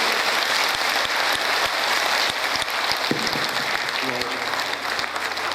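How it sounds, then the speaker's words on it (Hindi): A dense burst of clapping fills an auditorium as the audience applauds loudly and steadily, a sustained wash of hands with no pause, heard close and alone. "जोर से तालियां बजाइए"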